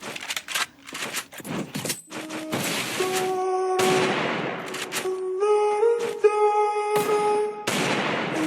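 Gunshots in a custom-room shooter game ring out in short bursts, interleaved with sustained in-game tones and effects, at a moderate level with no talking.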